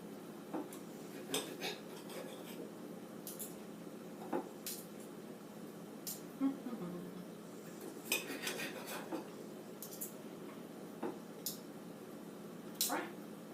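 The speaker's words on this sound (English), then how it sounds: "we'll just be quiet for a second while I concentrate on cutting" Knife and fork cutting up steak on a plate: scattered light clinks and scrapes of metal on the dish, close and fairly quiet, with irregular gaps between strokes.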